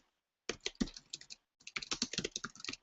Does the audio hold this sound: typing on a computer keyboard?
yes